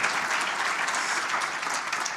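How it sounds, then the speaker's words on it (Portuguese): An audience at a football club anniversary celebration claps steadily, giving dense, even applause that stays close and loud throughout. "uma salva de palmas para eles"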